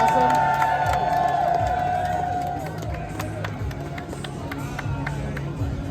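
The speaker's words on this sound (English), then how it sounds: "One more big round of applause for everybody because these costumes are all" Crowd at a zombie walk costume contest cheering and whooping, loud and close, with scattered claps and shouts, while voices carry over the noisy mix throughout.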